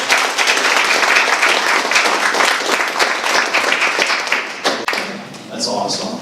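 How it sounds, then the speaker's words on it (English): Audience applause honoring a guest named Bob at a live conference session: dense, sustained clapping from a crowd, loud and steady for about five seconds before thinning out, with a few voices rising near the end. "how about a nice round of applause for Bob?"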